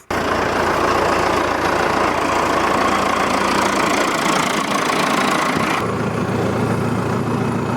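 An Allis Chalmers 175 diesel tractor engine labors loudly and close while plowing, a steady knocking diesel drone that drops to a lower, quieter idle-like tone near the end.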